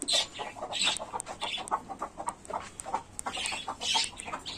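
Several hens cluck in repeated bursts close by in a farmyard or coop, short overlapping clucks and squawks continuing steadily throughout with no talking.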